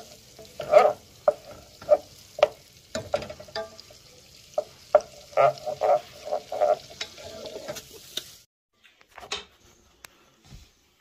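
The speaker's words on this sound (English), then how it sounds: "Just got this butter melting YouTube. It's almost ready for some flour for the roux." Butter melts and sizzles in a pan for a roux, heard as close crackling bursts and spits with a steady fry underneath, then it drops off to near silence near the end; no speech.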